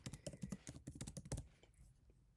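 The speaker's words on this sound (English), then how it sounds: "So let me type that in there." Quick, uneven keystrokes tap on a computer keyboard close to the mic, a rapid burst of typing that fades into quiet after about a second and a half.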